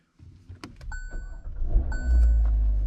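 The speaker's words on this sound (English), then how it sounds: "let's make sure my car starts, because that's going to be the main problem" A car left unused for over a month being started: clicks and electronic chimes, then the engine catching and settling into a loud low rumble that holds steady.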